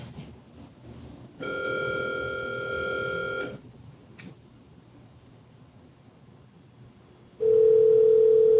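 A telephone line rings out on a call placed during district court arraignments. Two ringback tones sound over faint background hiss: a two-second electronic ring, a long pause, then a second, stronger tone that runs to the end.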